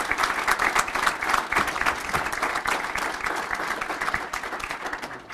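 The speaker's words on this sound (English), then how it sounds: "I'd like to have a round of applause for Dean Coco" A round of applause from the audience at a college signing day event for a technical school, steady dense clapping that carries through without letting up, loud and close, with a few cheers mixed in.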